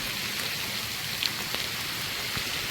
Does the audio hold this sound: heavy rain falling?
yes